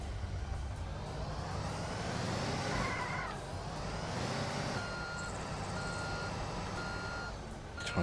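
A truck reverses in Construction Simulator 2, its beeper repeating steadily over a continuous engine rumble and low mechanical noise that hold through the whole passage.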